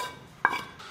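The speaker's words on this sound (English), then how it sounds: "Scraping that egg off, man." A single brief metallic scrape of a utensil against a pan, lifting off cooked egg, rings out once in a quiet kitchen.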